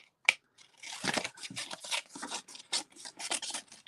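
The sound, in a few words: cutting out a piece of cardstock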